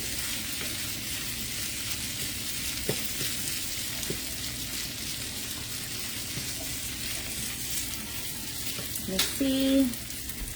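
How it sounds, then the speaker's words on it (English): Chicken curry sizzles in a home pot as it is stirred, a steady broadband fry hiss throughout with a few scraping clinks of the spoon near the end and a brief spoken remark. "So I'm gonna stir this."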